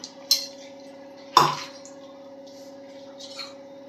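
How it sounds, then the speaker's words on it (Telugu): Oil being spooned into a kadai on a lit stove, with two sharp metallic clinks of a spoon against the pan over a steady low hum in a quiet kitchen. "ఇప్పుడు స్టవ్ వెలిగించి కళాయి పెట్టుకొని కళాయిలో ఒక 5-6 స్పూన్లు ఆయిల్ వేసుకోవాలి."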